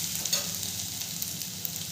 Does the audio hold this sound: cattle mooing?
no